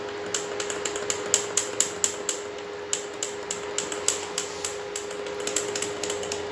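Rapid clicking taps of a spoon stirring creamy homemade cappuccino in a cup, an irregular run of close, sharp clinks over a steady background hum.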